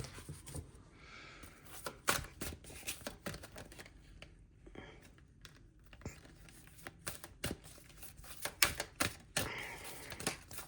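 Playing cards are shuffled and handled during a card reading, giving quick, faint, close riffling clicks and flicks in irregular bursts with no talking.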